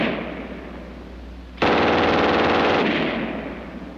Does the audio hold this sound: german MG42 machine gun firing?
yes